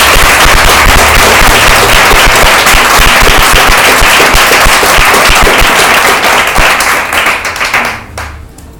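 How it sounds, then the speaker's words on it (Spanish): A church congregation applauds together in dense, loud, crackling clapping that keeps up steadily before thinning out and fading near the end, with no speech over it. "Si estás aquí, puedes dar un aplauso a Dios."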